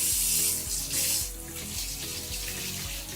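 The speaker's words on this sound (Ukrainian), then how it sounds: "зараз ми відмиваємо рибу від солі" Steady running tap water pours into a sink while salted fish is rinsed clean, a continuous broadband splash with a faint low hum beneath, close and fairly loud, no voices.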